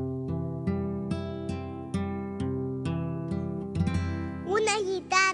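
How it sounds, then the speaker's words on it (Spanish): Acoustic guitar plucks a steady run of bright single notes and chords in even rhythm, close and clear, with a voice briefly singing over the last moments. "Sí, es una guitarra."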